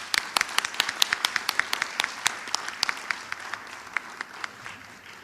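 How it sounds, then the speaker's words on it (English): Applause from an audience for the speakers at the close of a university research paper competition's opening ceremony, a steady patter of clapping with distinct individual claps, gradually thinning out and tapering off near the end. "Please join me to give them a warm round of applause to the speakers."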